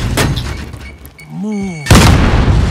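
A grenade blast in the Call of Duty: Modern Warfare video game, a heavy booming burst that hits near the end after a shouted voice, with another loud rumbling impact at the start and game noise throughout.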